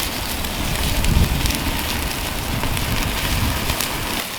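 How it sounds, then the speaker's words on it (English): A tomahawk steak sears over the flames of an electric torch, giving a loud, steady sizzle and crackle with a broad hissing roar throughout and no talk. "we're just going to move our tomahawk right over top of the flames. And we're going to let that just sear off for about 60 seconds"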